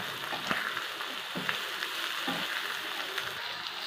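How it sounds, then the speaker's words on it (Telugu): Onions frying in a pan with a little green chilli and salt give a soft, continuous sizzle with scattered small pops and crackles. The sound is moderately quiet and holds steady throughout. "ఉల్లిపాయలు బాగా వేగాయండి"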